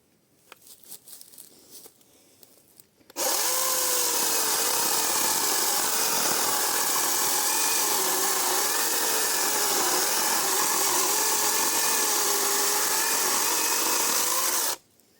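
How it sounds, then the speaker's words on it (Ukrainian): After a few seconds of quiet handling, a LEADER 20V 10-inch cordless brushless chainsaw whines up and saws steadily through willow wood for about twelve seconds, loud and close, then stops. "буду пиляти ось таку вербу"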